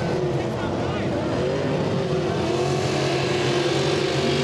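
Pro stock racing boats accelerate at the start of a Valleyfield race final, engines roaring loud and continuous with climbing pitch while a commentator talks over them.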